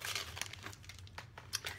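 A plastic zipper bag crinkles softly in a few quick, faint rustles over less than two seconds.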